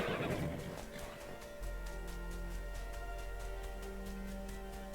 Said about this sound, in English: Nope, those are horses.